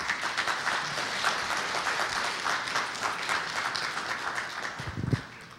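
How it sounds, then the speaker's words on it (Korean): A church congregation applauds to welcome an evangelist to the front, sustained close clapping from many hands across the room with a faint voice near the end. "이 시간 우리 이삭 전도사님 나오실 때 한번 박수로 한번 환영하십시다"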